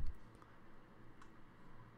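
Mouse clicks while working in software, faint and close: several light, irregular clicks and ticks over a quiet background hiss.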